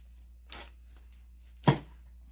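A pink snail-shaped tape measure being picked up makes a few faint light clicks and rattles, then one sharper plastic clack near the end, quiet and alone.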